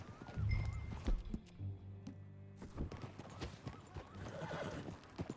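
Hooves clop at a steady walking pace in the video game Red Dead Redemption 2, with a horse neighing, close and fairly clear against a quiet background.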